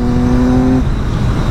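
A Triumph Daytona 675 three-cylinder sport motorcycle with an aftermarket air filter and decat exhaust, its engine loud and close with a strong steady tone that shifts partway through as the revs change.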